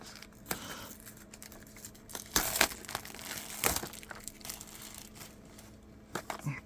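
A cardboard product box for a lavalier wireless microphone is cut open and torn, giving scattered crinkling, scraping and a few sharper tearing bursts, close and fairly quiet, with no talk.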